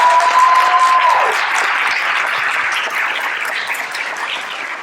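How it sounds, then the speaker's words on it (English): An audience at a school board of education meeting applauds a faculty advisor, with steady, sustained clapping from a moderately sized crowd that gradually fades slightly. "get a round of applause because you absolutely deserve it"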